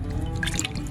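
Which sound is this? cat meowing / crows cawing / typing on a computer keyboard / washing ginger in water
washing ginger in water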